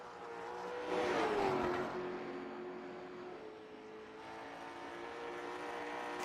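A race car engine in a racing video game holds a steady tonal drone and swells as the throttle is worked through a wide arc into a corner, then settles back to a constant, moderately loud hum.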